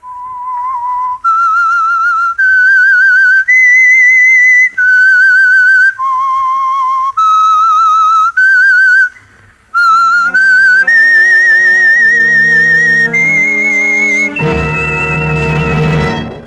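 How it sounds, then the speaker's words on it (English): A clear, loud whistled melody of sustained notes in a steady phrase, the signature tune of a 1940s radio mystery program, followed by a swelling orchestral chord at the end. "That whistle is your signal for the Signal Oil Program"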